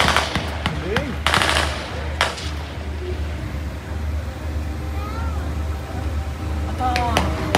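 Two squads fire guns toward an objective during an outdoor military capability demonstration by reservists, with sharp shots and short bursts cracking at intervals over a low rumble and some voices.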